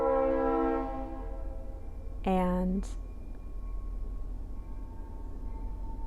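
A distant train horn sounds one brief blast over a steady low rumble of the passing train, heard faintly in the background while a person talks quietly.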